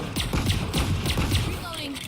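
Quick metallic clicks and ratcheting taps of a weapon reload in Valorant, several crisp mechanical snaps in a rapid rhythm, close and fairly loud, with a brief electronic sweep near the end.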